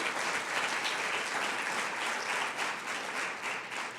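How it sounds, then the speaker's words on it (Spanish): A church congregation applauds together during a worship service, a steady, dense wash of clapping that holds evenly for several seconds with no voices over it. "¿Cuántos le pueden dar un aplauso al Señor porque nos permite estar aquí presentando nuestra vida a Él?"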